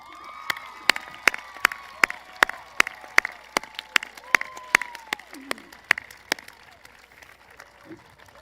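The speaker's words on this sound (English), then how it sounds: "Students, I think it's time we give them a round of applause." A stadium crowd at a university commencement gives applause for families, with loud, evenly spaced sharp claps standing out over a softer crowd wash and scattered voices, fading toward the end.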